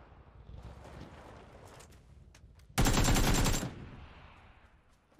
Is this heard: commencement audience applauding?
no